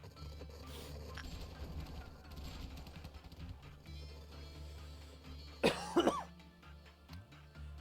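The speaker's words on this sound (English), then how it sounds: "Sorry, I got a bit of a cough." A person coughs sharply a few times in a quick burst near the microphone, after a stretch of quiet background rumble.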